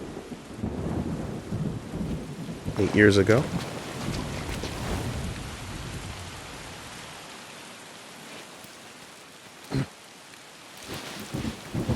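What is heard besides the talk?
rain and thunder in the video game Sifu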